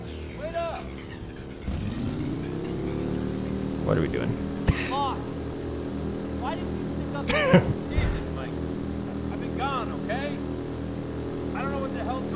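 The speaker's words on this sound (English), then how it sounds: "That's a motorcycle sound." Motorcycle engine in Ride to Hell: Retribution, a steady droning buzz that starts abruptly and holds at an even level, with people talking over it throughout.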